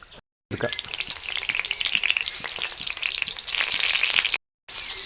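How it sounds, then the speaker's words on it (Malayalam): Round slices of eggplant, potato, carrot and capsicum fry in hot oil for maqluba, a close crackling sizzle that swells and settles, briefly cut out twice. "ഇനി നമുക്ക് റൗണ്ടായിട്ട് കട്ട് ചെയ്ത വഴുതന പൊട്ടറ്റോ ക്യാരറ്റ് ക്യാപ്സിക്കം ഇതെല്ലാം ഒന്ന് ഫ്രൈ ചെയ്തെടുക്കാം"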